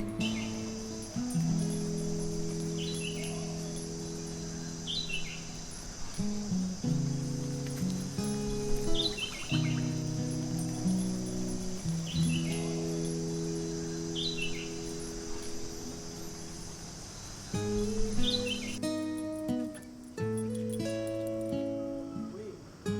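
Steady outdoor morning chorus of chirping birds and a constant high drone of crickets and other insects, layered calls repeating throughout, with a low hum underneath.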